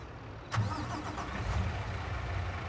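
A truck engine in Farming Simulator 22 cranks over and catches, then settles into a steady mid-pitched idle that stays close and fairly loud.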